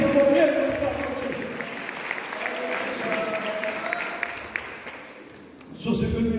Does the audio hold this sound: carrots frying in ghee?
no